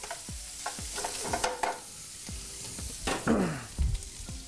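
Food browns in a pan in a catering kitchen, a constant sizzle broken by repeated clanks and scrapes of stirring, close and moderately loud, with no voices.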